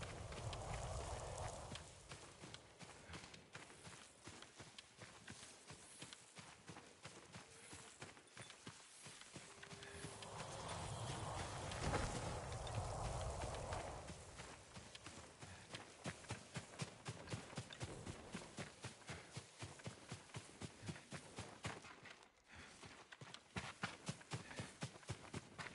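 Horse hooves clip-clop at a steady walking pace in the samurai video game Ghost of Tsushima, with the rhythm quickening toward the end against faint ambient background sound.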